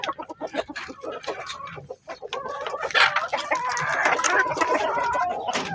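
Chickens roosting in a coop cluck and squawk over one another in a busy, continuous chorus, close and fairly loud, with a crowing call mixed in.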